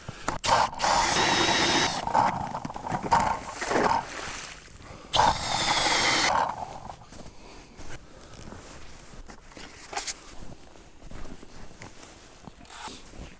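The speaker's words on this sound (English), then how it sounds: "Drill a hole, see what we're working with." Ice auger boring a hole through lake ice while ice fishing for bluegills, a loud grinding drill burst for about six seconds, then quieter scraping and shuffling on the ice.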